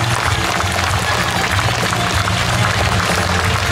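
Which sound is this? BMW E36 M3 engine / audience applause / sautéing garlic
audience applause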